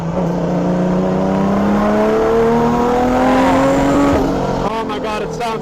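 Turbocharged RB25-swapped custom Nissan 240SX S14 race car driving laps on track, its engine droning and rising in pitch as it accelerates, loud and steady, with a brief shift near the end.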